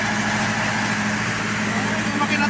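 A motor runs steadily at welding work on a safety bracket, a constant dense drone with a low hum, fairly loud and with no pause.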